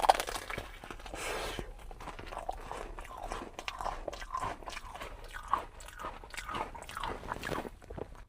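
Someone bites into a crispy biscuit topped with a lychee trompe-l'oeil pastry. Close, quiet crunching and chewing carry on steadily for several seconds.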